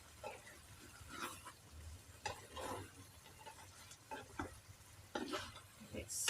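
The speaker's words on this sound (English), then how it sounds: "look at the egg cook already" An egg fries and is stirred in a pan, with faint, irregular scrapes and light clinks over a low sizzle, heard quietly and without talking.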